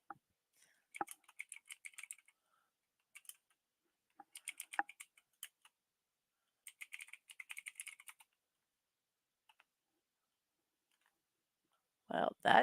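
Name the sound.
typing on a computer keyboard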